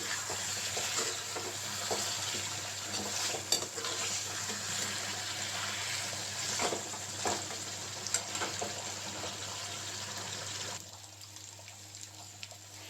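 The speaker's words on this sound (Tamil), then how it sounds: "தூவி விட்டுட்டு கொஞ்சம் கிளறி விடுவோம்." Quail pieces sizzle and spatter steadily in hot oil in a pan, with scraping stir strokes, loud and close throughout before the frying settles quieter near the end.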